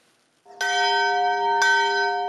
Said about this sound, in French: Le son de la cloche retentit à Marianoteho.